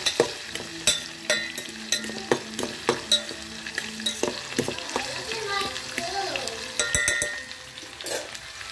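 Spoon stirring homemade hair oil heating in a pan, with repeated scraping strokes over a steady soft sizzle, close by, settling into quieter frying toward the end.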